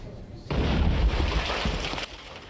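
A single explosion goes off during a demonstration of how powerful smuggled explosives are, a sudden loud burst with a rumbling low roar lasting about a second and a half before cutting off.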